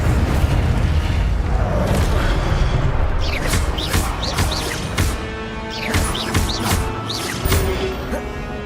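A fiery Incendio spell blast from the video game Hogwarts Legacy, played on PS5, sounds as a continuous loud roaring rumble with whooshing bursts throughout and bird-like chirps scattered over the later part.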